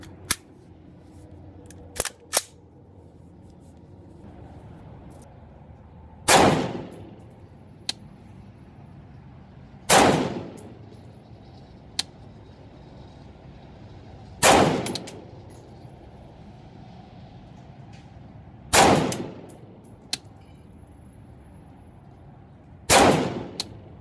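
An AR-15 rifle with a gas piston design fires single shots outdoors, each a sharp loud crack with a short tail, spaced several seconds apart, with faint clicks in between.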